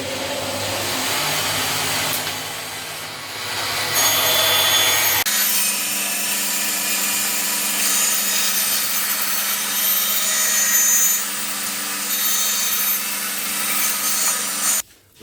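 A circle-cutting jig guides a blade through a wooden board, giving a steady, loud sawing and rubbing whine close by that shifts to a lower, even drone partway through and stops abruptly at the end.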